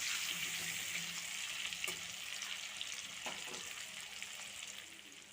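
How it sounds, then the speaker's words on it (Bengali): Potato pieces coated in salt and turmeric half-frying in hot oil in a pan for a Bengali parshe fish curry. A steady, fairly quiet sizzle runs throughout, with a few soft stirring clicks and no talk. "এবার আলু আধ ভাজা করে নেব।"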